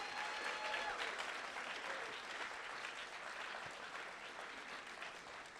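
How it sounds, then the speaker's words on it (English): An audience at a climate comedy show applauds in a steady, dense wash of clapping that sounds faint and distant, tapering slightly over several seconds. "Give yourselves a round of applause for coming out this evening."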